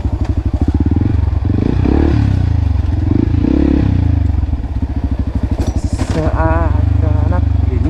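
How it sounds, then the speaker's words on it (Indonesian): A trail motorcycle's exhaust pulses loudly and close throughout, a rapid rhythmic thrum with brief swells of revving, while a rider's voice talks over it near the end. "Kok gak ada suara knalpot? Oh ada."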